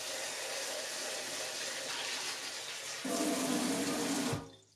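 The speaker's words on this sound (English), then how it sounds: "But I'm going to wash my mushrooms, ladies and gentlemen. These things are dirty." Dirty mushrooms are rinsed under a running kitchen tap, a steady close hiss of flowing water that grows fuller as the stream hits them, then cuts off abruptly at the end; no one speaks.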